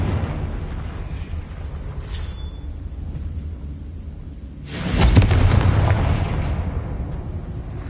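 A Confringo fire spell in Hogwarts Legacy bursts into a loud, deep explosion that rumbles and fades over a few seconds, following a stretch of low ambient game rumble.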